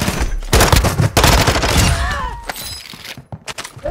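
Gunfire rings out in Call of Duty Warzone on the Vondel Resurgence map. Loud, close bursts of rapid shots overlap with cracks and impacts, and a short pause separates the later volleys.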